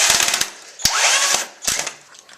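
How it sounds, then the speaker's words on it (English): A power drill drives screws into wood, with close, loud whirring bursts broken by clicks and brief stops, the motor pitch sliding as each screw seats. "just put a screw in each one"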